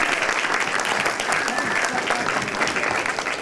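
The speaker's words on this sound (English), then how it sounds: "So please, give yourself a round of applause." Steady audience applause fills a hall at an awards evening, a dense, continuous clapping from a sizeable crowd with no break.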